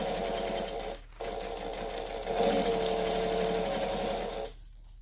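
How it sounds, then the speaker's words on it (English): Sewing machine stitching fabric along a curve, a close steady mechanical whir with a brief pause near the start and a stop at the end, no talk. "And then we're just going to sew along the curve."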